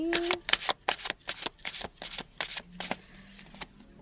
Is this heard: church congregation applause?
no